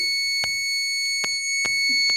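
Water level indicator alarm signalling a full tank, sounding as a steady high-pitched electronic tone, with scattered clicks against it, close and loud with no speech.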